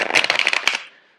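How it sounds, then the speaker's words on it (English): Tarot cards shuffled by hand in a quick riffle of crisp, rapid flutters lasting under a second, close and fairly loud, then fading to silence. "I'm going to shuffle the cards out for you."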